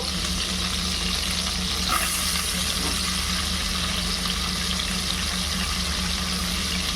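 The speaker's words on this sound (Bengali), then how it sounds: "এবার এই গরম তেলের মধ্যে আমি পেঁয়াজগুলোকে ছেড়ে দেবো বেরেস্তা তৈরি করার জন্যে।" Onions frying in hot oil for birista, a dense, steady close sizzle with a brief stir near the start and faint watery crackle throughout, no talking.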